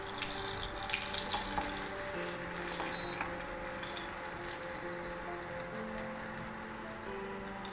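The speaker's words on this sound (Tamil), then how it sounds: "இந்த மாதிரி தண்ணி ஒரு பாத்திரத்தில் 200-300 ஊற்றி நல்லா கொதிக்க வைங்க" Water is poured steadily into a cooking vessel in a kitchen, about 200 to 300 ml, making a continuous close splashing and trickling that lasts throughout without pause.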